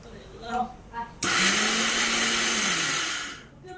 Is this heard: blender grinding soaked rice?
yes